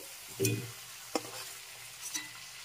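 Prawns frying in oil in a kadai, with a burst of sizzling and stirring early on, then a low steady sizzle broken by a few short scrapes and clicks of the spatula.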